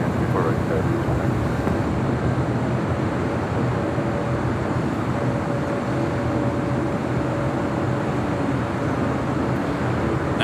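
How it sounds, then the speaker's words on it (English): A United Airlines Boeing 737 MAX 9 arriving on runway 24 right at Los Angeles airport, heard as a steady, loud broadband jet roar that holds throughout without a break. "Next arrival on 24 right is United Airlines Flight 1897 coming in from SFO on a 737 MAX 9."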